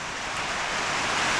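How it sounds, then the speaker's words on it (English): Steady hiss of rain drumming on a tin roof, a dense wash of noise that swells slightly, with no voices. "That is the rain on the tin roof."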